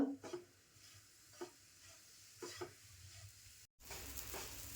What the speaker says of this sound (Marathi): गॅस मिडियम ठेवायचा आणि छान असं परतून घ्यायचं 7 ते 8 मिनटं कलर बदलेपर्यंत.